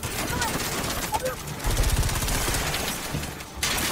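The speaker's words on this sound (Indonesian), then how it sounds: "melepaskan tembakan ke arah mobil Zaid" A burst of rapid gunfire crackles over a dense, noisy background, with sharp repeated cracks mid-clip that stop abruptly near the end.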